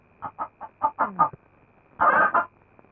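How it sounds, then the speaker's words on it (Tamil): A chicken clucks in a quick series of six short, close calls, then after a brief pause gives one longer, louder squawking cackle, with no voices over it. "கோழி."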